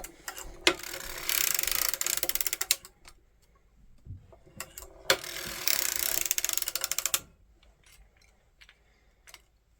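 A hand-cranked circular sock-knitting machine clatters in two long bursts of rapid ratcheting clicks, with shorter isolated ticks and knocks between them, close and loud.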